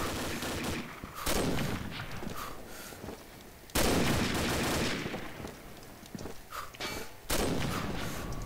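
Gunfire from a TPG 41 sniper rifle in the Combat Arms video game, a handful of sharp, loud reports spaced a few seconds apart, each trailing into a noisy decay, with no talk over them.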